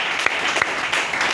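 A church congregation applauds with brisk, dense clapping, loud and close, with a few sharper individual claps standing out.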